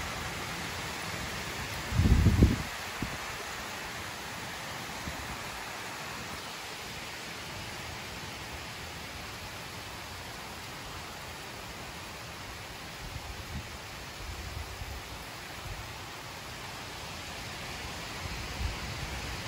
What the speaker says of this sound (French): Ah, les rafales par moment, c'est incroyable.